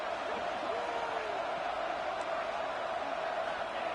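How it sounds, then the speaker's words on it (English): Steady stadium crowd roar in College Football 26 during a Miami dynasty game, a dense continuous wash of cheering that holds at an even level throughout, with faint whistle-like tones drifting over it. "Listen to the crowd energy here in the early going."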